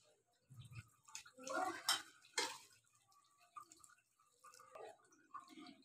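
Gram flour batter is stirred with water in a bowl, giving irregular clinks, scrapes and wet sloshing in short bursts with brief pauses between strokes.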